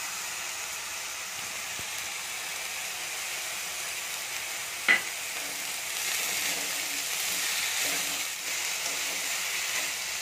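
Chopped curry leaves hit a hot pan and settle into a continuous sizzling hiss, with one sharp clink partway through and a slight swell later, no talking.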